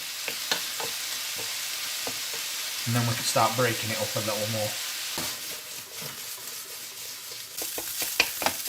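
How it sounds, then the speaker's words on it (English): Steady frying sizzle with crackles and pops as stuffed pepper filling with basil cooks in a pan, a brief stirring scrape partway through, and a voice speaking over the pan for a few seconds. "Nice bit of sizzling going off in this pan now."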